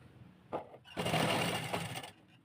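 A sewing machine stitches the sleeve of a suit, a short buzzing burst followed by a longer run of rapid whirring stitches lasting about a second, close and fairly loud with no talk.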